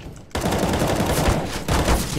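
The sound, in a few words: gunfire in a shooting video game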